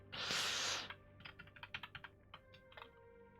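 Keys clatter on a computer keyboard in an irregular run of distinct, close taps after a short burst of broadband noise at the start.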